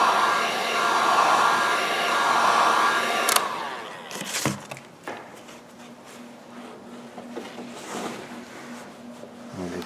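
A heat gun or hair dryer blows steadily for about three seconds while warming plasticine for a boat swim grid fillet, then cuts off, leaving thumps and handling noises over a low hum.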